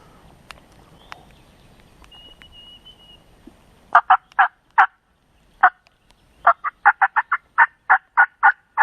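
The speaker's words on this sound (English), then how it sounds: "Just heard a gobbler behind me." A wild gobbler turkey in West Virginia spring woods gobbles repeatedly after a quiet stretch, loud rattling calls in quick rhythmic bursts, a dozen or more sharp pulses close by with no talk over them.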